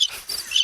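People imitate crickets with a brief burst of high, hissing chirps, close and fairly loud, lasting under a second with no talk.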